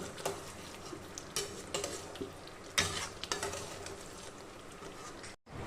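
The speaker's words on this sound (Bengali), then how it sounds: "গ্যাসের ফ্লেমটাকে হাই করতে রেখে এটাকে এখন ভালো করে কষিয়ে নেব" Chicken with yogurt stir-fried in a pan over a high flame, a constant sizzle broken by repeated spatula scrapes and knocks against the pan, close and fairly loud.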